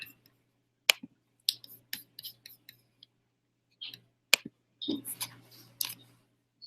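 Sparse, irregular clicks of keys being pressed on a computer keyboard, typed at an awkward angle, with short bursts of taps separated by quiet gaps.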